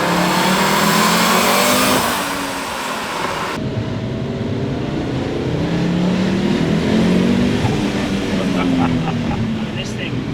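An Audi Sport Quattro rally-bred road car pulls hard along a street. The engine roars and climbs through the revs, fades slightly, then swells again, loud and continuous as it passes or is recorded from outside.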